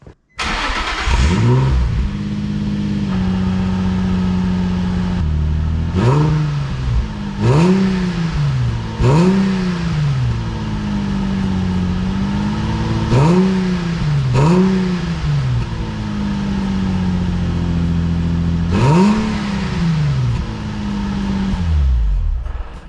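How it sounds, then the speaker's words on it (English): A Nissan 350Z fitted with a Circuit Werks cat-back exhaust and silencer cold-starts, then gets blipped repeatedly, each rev swelling and falling back to a steady low idle, loud and close with no talking. "this is a cold start with the silencer"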